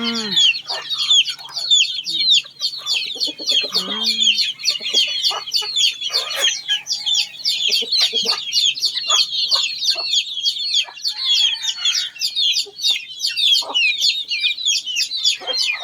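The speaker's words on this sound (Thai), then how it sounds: "เลี้ยงเป็ดเลี้ยงไก่ของแม่สาวลาวเราเลี้ยง" Village chickens on a Lao family farm keep up dense, continuous clucking and cackling, with an occasional rooster note, loud and close throughout with no talking.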